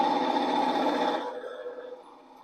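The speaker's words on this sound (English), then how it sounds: "Except it's the sound of a diesel on a steam locomotive." Diesel engine sound from a model train on a home layout, a steady buzzing drone that runs loud for about a second before fading lower and fainter, with no talking.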